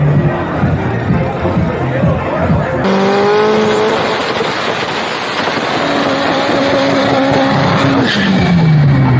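A Brazilian drag car does a burnout at a race meet, its engine roaring loud and steady with squealing tires and rising revs, crowd noise underneath throughout.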